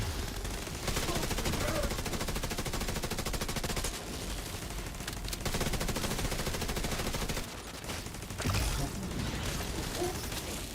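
Turret gunfire in The Division 2: a rapid, continuous mechanical rattle of automatic shots runs nearly nonstop at moderate loudness, with brief breaks and clanking game effects layered in.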